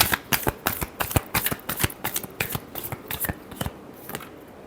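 Tarot cards shuffled by hand during a reading: a quick run of crisp riffling snaps and slaps in an uneven rhythm, close, fairly quiet, with no talk.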